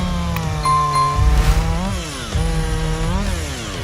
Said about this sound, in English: Chainsaws are powerful enough to cut through any material in a flash.